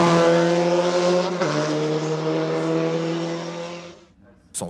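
A Reinhardt 903 race car at a historic hill climb, its engine holding a loud, steady harmonic drone at close range before fading away, with a brief burst at the end.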